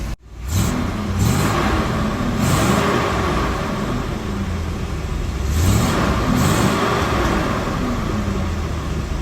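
A 1972 Chevrolet Corvette C3 with a 350 V8 fires up and revs, loud and close, with repeated throttle blips rising and falling over a rumbling idle.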